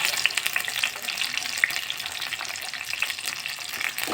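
Onion, garlic, tomato and green chillies fry in oil in a pan, giving a steady, close, dense sizzle that runs without pause and carries small crackles and pops throughout.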